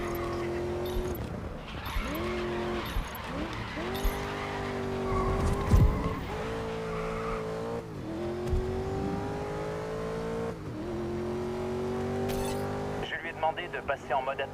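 A touring race car in the GRID Legends video game sliding on the track, engine revving and dipping through gear shifts with tire squeal, under someone talking throughout.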